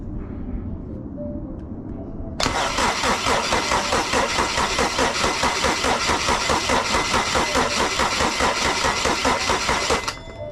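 A Honda K20a2 engine cranks on the starter from battery power during a compression test, a loud, rapid rhythmic churning that starts abruptly and runs steadily for about eight seconds before stopping.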